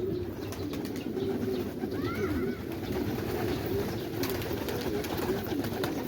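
Pet pigeons in Quetta, Pakistan coo in soft, continuous low murmurs over steady background noise, with a few brief higher chirps midway and no clear talking.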